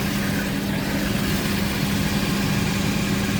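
Audi Q7 3.0 turbo petrol engine with the exhaust leaking at a clamp, a steady loud droning rumble heard from inside while driving, continuous with no breaks.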